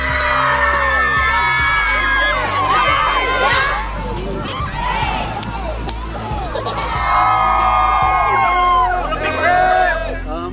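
Whole campus crowd cheering 12th grade scholars marching to submit college applications, a dense mix of shouts, whoops and excited babble swelling in bursts, loud and close.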